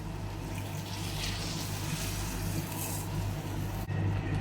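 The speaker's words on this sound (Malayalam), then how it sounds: "ഇതിലേക്ക് നമുക്ക് ചൂടാക്കി വെച്ചിരുന്ന വെള്ളം ചേർത്ത് കൊടുക്കാം." Heated water is poured into a pan of egg curry gravy, a continuous close splashing pour that runs the whole time, with a brief clunk near the end.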